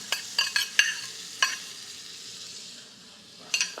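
Vegetables including celery root hit a hot pan, giving a soft, steady sizzle broken by several sharp clattering stirs near the start and again at the end.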